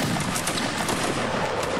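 A musket volley from Napoleonic line infantry in a multiplayer battle game, a dense, loud crackling roar of many shots fired nearly together, rolling on for a moment without a break.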